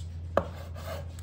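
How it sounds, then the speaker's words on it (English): A fillet knife, a little in need of sharpening, slices a fish fillet into even squares: one crisp, close cut stands out over a steady low background hum. "with the top section I like to cut down the middle, like so, and then just make nice even squares"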